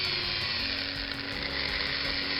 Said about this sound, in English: here I'm just drilling the post out, ready for tapping for a screw to hold the body and base back together.